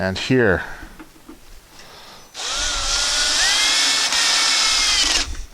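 A power drill driving screws into a Ryobi 40V 12-inch snow shovel during assembly, a loud, close whirring that ramps up in pitch and runs for about three seconds, with a voice speaking just before.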